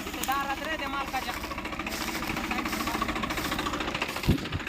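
A tractor engine runs with a rapid, rough, knocking chug that holds steady and fairly close throughout, while voices talk over it.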